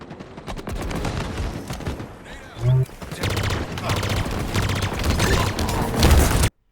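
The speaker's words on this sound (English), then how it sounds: "I can hear the Banshee shots. They sound different to everything else." Banshee vehicle weapon fire in a Halo Infinite multiplayer match: repeated rapid bursts of game gunfire over a busy, dense battle mix, with a voice talking over it.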